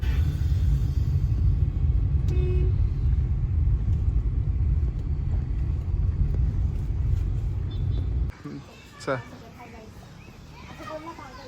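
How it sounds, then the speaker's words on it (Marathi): A car driving, a steady low road rumble from inside the vehicle that cuts off abruptly near the end, leaving quieter ambient sounds and voices. "बघा गाडी काढली आहे"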